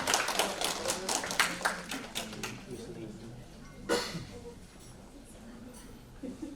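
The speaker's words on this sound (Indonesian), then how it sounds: "mari berikan tepuk tangan meriah untuk Ibu Isma Meitisya" Audience applause greets someone speaker, a CSR analyst at a research center, at a seminar on sustainable community development: a dense burst of clapping that fades within a few seconds, followed by a quieter stretch with a single sharp knock.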